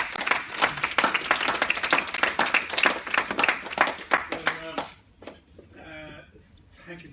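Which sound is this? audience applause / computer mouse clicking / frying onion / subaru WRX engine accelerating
audience applause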